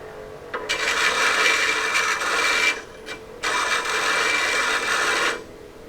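Two long rasping bursts come from a Hercules 8-inch variable-speed bench grinder running at 2,000 RPM, split by a short pause, over a low steady hum; no one speaks.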